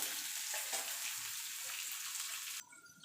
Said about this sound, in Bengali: পেঁয়াজটাকেও ভাজা ভাজা করে নেবো